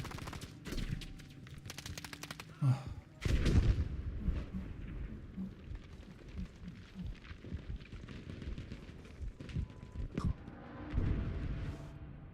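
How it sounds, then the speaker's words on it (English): Nonstop artillery-style blasts and rapid gunfire from a tank in a retro video game, dense and loud, with booming heavy hits and crackling bursts layered throughout. "there's a fucking tank just shooting constantly"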